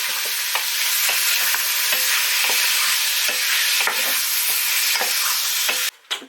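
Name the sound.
stirring and browning meat in a pan for steak and ale pie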